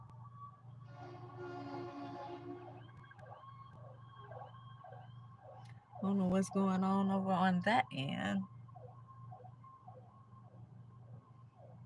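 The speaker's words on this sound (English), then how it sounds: "That was the ambulance. Somebody hurt somewhere." An ambulance siren wails briefly in the distance, rising for about two seconds mid-clip over faint background noise, while someone talks before and after it.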